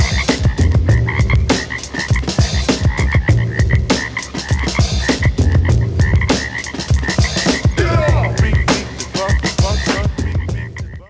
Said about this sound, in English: So hear the frogs dancing in the street.